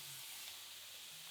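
Bean sprouts stir-frying with a half spoonful of oyster sauce in a pan, a soft, steady sizzle and hiss that runs unbroken and fairly quiet, with no voices over it.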